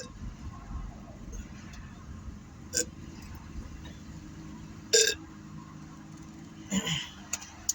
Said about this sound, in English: I know y'all like the burps.